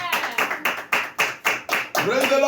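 A church congregation claps in acclamation, about eight loud, evenly spaced claps in a steady rhythm, and a voice joins at the end.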